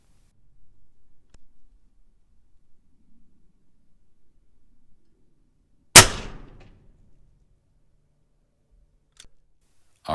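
A single sharp, loud crack of an AEA HP MAX 357 air rifle firing at 100 yards, standing out against near silence with faint clicks and handling noises around it.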